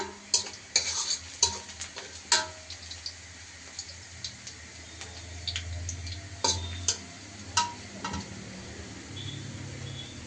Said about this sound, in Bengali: তেল গরম করছি করার পরে পেঁয়াজ রসুন দিয়ে দিচ্ছি